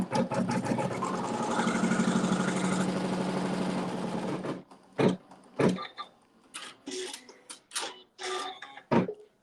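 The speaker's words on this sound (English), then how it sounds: "we're stitching another seam" A sewing machine runs steadily for about four and a half seconds while stitching a fabric seam on a log cabin quilt block, its rapid mechanical whir filling the stretch before it stops and leaves a few scattered clicks and handling knocks.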